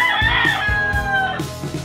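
A pet rooster crows loudly and close by, a long drawn-out call, while chickens cluck briefly around it.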